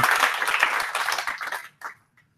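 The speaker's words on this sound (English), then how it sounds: "If we could have a round of applause for Perry for just putting this together" A small meetup audience claps for the event organiser, a brief dense burst of close hand-clapping that thins out and stops within about two seconds, with a last few scattered claps after.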